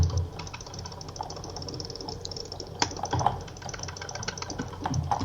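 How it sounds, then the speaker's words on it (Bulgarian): Fast clicking on a computer keyboard and mouse while playing Minecraft, a dense run of light rapid taps with a few louder clacks, close and steady, with no speech. "Браво, бързо кликаш. Чувам те."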